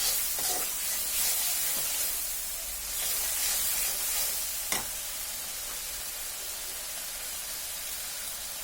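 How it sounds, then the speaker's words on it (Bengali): Spice masala with chopped tomatoes fries and is stirred in a pan for motorsuti ghugni. A steady, close hiss of sizzling runs throughout, with faint scrapes and one sharp tap of the spoon. "এখন যে টমেটোগুলো কাটা আছে সেটাও এর মধ্যে দিয়ে দেব। মশলাটাকে ভালোভাবে কষিয়ে নিব।"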